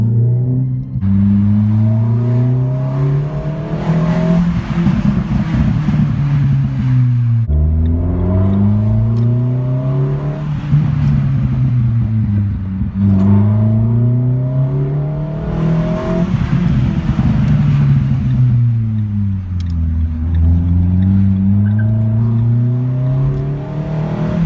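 A Renault Sport Sandero with 145 horsepower accelerates hard through the gears, its engine note climbing loudly in repeated rising sweeps and briefly dropping at each shift, close and continuous with no talking.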